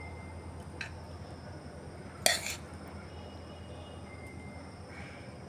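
Dry moong dal is served onto a serving plate, with a single clear metallic scrape and clink of a spoon against the plate over quiet background hiss, plus a fainter tap before and after.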